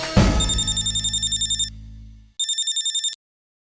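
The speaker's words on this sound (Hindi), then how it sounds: "अपने बेटी को फोन लगाओ" Phone on speaker ringing with a steady pulsing electronic ringtone, close and clear, a long burst followed by a short pause and a second burst before it cuts off.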